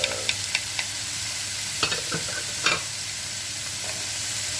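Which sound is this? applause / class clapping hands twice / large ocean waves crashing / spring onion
spring onion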